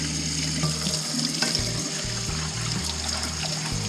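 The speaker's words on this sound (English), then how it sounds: "Let the water run." Hot tap water runs and splashes onto a cast iron skillet in a sink, a continuous close hiss and trickle with faint sizzling and no voices.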